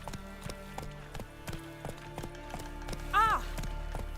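Roach, a horse in The Witcher 3, gallops with a quick, steady beat of hoofbeats at moderate volume, and a short neigh or whinny breaks out near the end.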